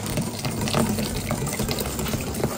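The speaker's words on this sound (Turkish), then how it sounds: "Üstüne sütümüzü koyduk." Milk poured from a bottle into cake batter in a home kitchen, a steady close liquid pour with continuous splashing texture lasting the whole stretch, no talking over it.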